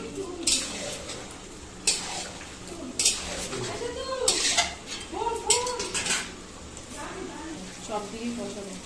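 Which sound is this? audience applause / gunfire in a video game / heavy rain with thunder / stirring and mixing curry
stirring and mixing curry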